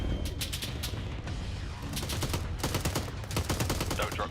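Rapid automatic gunfire from the ARMA 3 military game crackles in repeated bursts over a constant background rumble, sharp volleys clustering in the second half.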